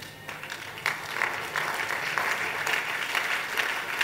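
A church congregation claps and cheers together during a sermon, producing steady, dense applause that lasts several seconds.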